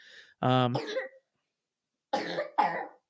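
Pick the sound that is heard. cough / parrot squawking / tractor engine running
cough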